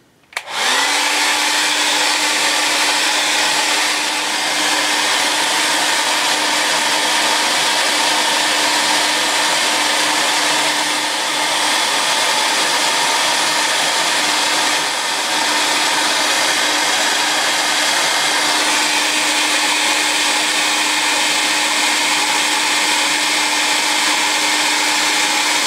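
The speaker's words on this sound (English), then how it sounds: "I'm going to try this hairdryer method." A hair dryer blows steadily on a toy pinball game to heat and loosen its decals, a loud, close, unbroken whirring hum with a fixed motor tone that runs the whole time, with no talking.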